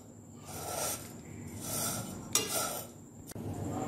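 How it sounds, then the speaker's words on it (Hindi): A spoon gently stirs vermicelli (seviyan) roasting in a pan over low heat, a soft scraping swish repeating in slow waves over a steady faint sizzle, with a couple of light metallic clinks. "चम्मच को हल्के हाथ से चलाते जाना है"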